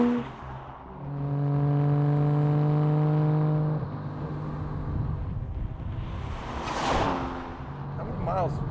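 A Toyota Chaser tuned to 320 kilowatts drives along, its engine holding a steady droning tone from inside the cabin before the note drops and road noise and a brief whoosh take over.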